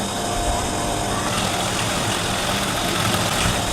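Sewing machine stitching a halter neck kurti, running as a steady, loud, continuous motor whir with an even mechanical vibration throughout, with no voices.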